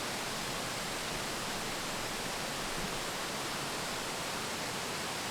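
Station Cove Falls, a 60-foot cascade fed by a creek in an Appalachian cove forest, roars as a dense, steady rush of falling water, close and loud throughout.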